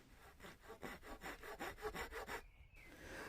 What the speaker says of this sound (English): I'm actually using a flush saw here